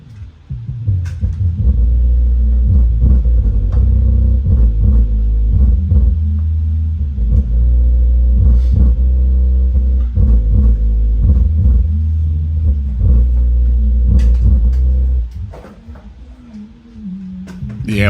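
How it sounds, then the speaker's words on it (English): Car audio subwoofer from a DR Double Rock 2K amplifier setup being broken in while playing in free air, giving a loud, steady low bass rumble that holds for about fifteen seconds before dropping off. "I needed to break in this subwoofer, so I'm going to let it free air for a minute."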